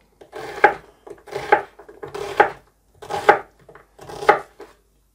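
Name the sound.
chopping onion coarsely with a knife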